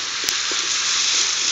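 Steady hissing sizzle of chicken cooking in its own boiling liquid in a pan, loud and continuous with a faint clink near the start.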